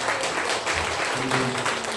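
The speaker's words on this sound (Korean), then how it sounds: "우리 환영하는데 한번 박수 한번 주세요" A church congregation at a Sunday service claps to welcome a returning deacon, a steady dense wash of applause filling the whole moment without pause.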